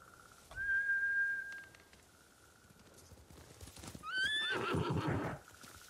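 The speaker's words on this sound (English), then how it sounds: "Bastards scared off the horses." Two loud horse whinnies ring out in the Ghost of Tsushima video game, the second rising and shaky, with hoofbeats and galloping rumble around them.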